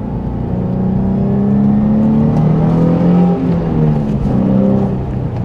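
A 2003 Nissan 350Z Track Edition engine revs up and down in steady, loud waves during a downshift with rev matching, the pitch rising and dropping as gears change, with no talking.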